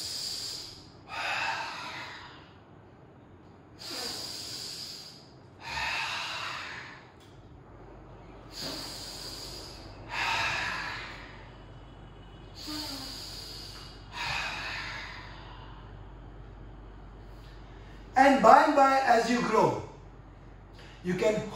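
Forceful yoga breathing exercise led by an instructor on International Yoga Day: repeated strong nasal inhalations and exhalations in a steady rhythm, close and loud, ending in a burst of rapid snorting breaths.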